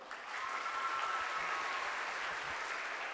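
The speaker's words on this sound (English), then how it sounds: "Let's give a big clap to the national hero of Cambodia." Clapping from an audience at a school English debate competition in Cambodia, a steady wash of many hands at moderate distance, even and sustained from start to finish with no talk.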